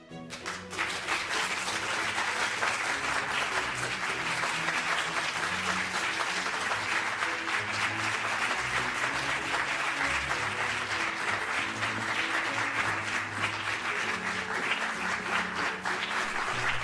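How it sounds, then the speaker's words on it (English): Cafe audience gives a long, sustained round of applause for a patron, steady dense clapping under soft background music, holding at an even level throughout. "Please give a warm round of applause for Mrs."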